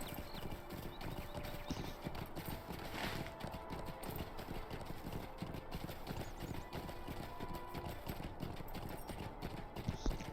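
Horse hooves clip-clop steadily and evenly in the Lord of the Rings Online video game as the mount travels through a desert area, a continuous close rhythm with a faint whinny mixed in.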